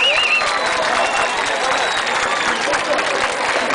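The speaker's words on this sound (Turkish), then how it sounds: "Alkışlar bu kadar mı başkanımıza?" A crowd at a circumcision celebration ceremony claps throughout, dense and steady, with some cheering and voices mixed in as a plaque is presented.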